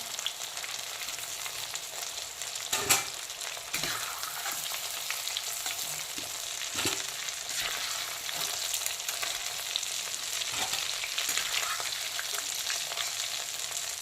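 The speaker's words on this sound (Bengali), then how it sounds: "গাটি কচুগুলো কিন্তু এখন খুব সুন্দর করে ডুবো তেলে ভেজে তুলে নিয়েছি" Taro (gati kochu) deep-frying in oil in a kadai alongside bhola fish and masala bori, a continuous close crackling sizzle with scattered louder pops and occasional clanks of a utensil.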